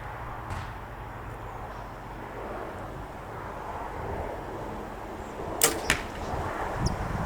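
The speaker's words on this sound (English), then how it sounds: "But I don't think 345 rubber bands will stop an arrow." An arrow strikes a ball of 345 rubber bands with two sharp, close impacts in quick succession, set against a steady outdoor background hum, with no talking.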